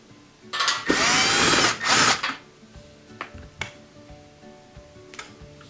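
Power driver whirring in two short loud bursts as it backs Torx 15 screws out of a Bosch dishwasher cross piece, followed by faint clicks and small handling taps.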